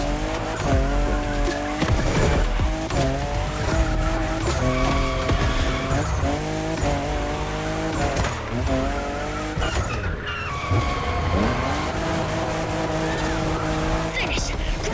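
A Toyota Supra, the fifth generation, races in The Crew Motorfest with its engine revving and tires squealing, loud and steady throughout and mixed with music-like tones and voices talking over the action.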